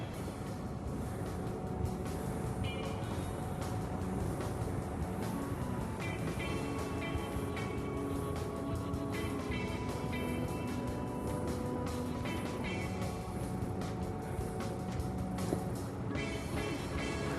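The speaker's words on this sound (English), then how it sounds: "Now we're ready to start the engine and blow up the air jack." A Land Rover engine idles steadily in an off-road setting while its exhaust inflates an air jack, giving a continuous rumbling drone with faint outdoor noise over it.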